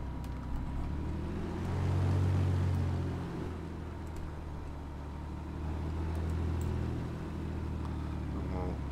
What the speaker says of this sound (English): If you want to hear it from the outside when the engine's revving up.